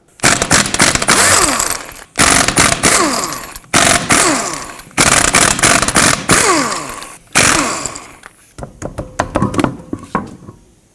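A 21mm socket on an impact wrench spins off the five lug nuts of a 2009-2015 Toyota Prius wheel, loud rattling bursts repeating in several bursts separated by short pauses, ending with lighter clinks.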